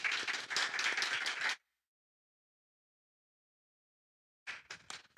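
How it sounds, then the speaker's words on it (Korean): Congregation at a Sunday worship service clapping in welcome for a missionary, a quick burst of many hands, then a pause, then a few more sharp claps. "박수로 환영하겠습니다."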